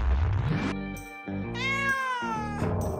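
Close, loud cat-like meows voiced for Meowth, the cat Pokémon, come several in quick succession, rising and falling in pitch, with no talking over them.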